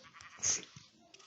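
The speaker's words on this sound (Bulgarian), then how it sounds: "Така събрах всички овци." A single short sheep bleat from the game Minecraft, faint and brief against near silence.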